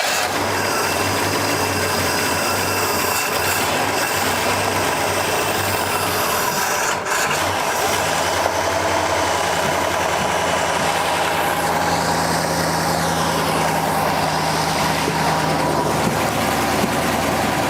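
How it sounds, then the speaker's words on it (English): The engine of an old 1972 Pontiac barn find, left sitting for 20 years, runs at a loud, steady idle close by, with a constant rough rumble and faint rubbing and scraping noises over it. "I'm gonna try to crank it again, see what it does"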